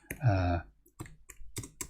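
Text is typed on a computer keyboard in a few scattered, sharp clicks, after a brief tonal hum at the start.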